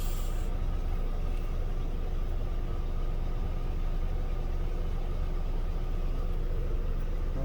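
A car engine that had been vibrating and stalling now idles steadily and keeps running, a constant close, low rumbling drone that does not cut out.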